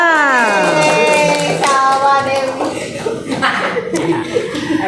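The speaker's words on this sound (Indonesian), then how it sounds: "Tepuk tangan untuk kelompok 6." Students in an Indonesian classroom clap and chuckle after a group presentation, with brief laughter and a teacher's voice mixed in over the applause.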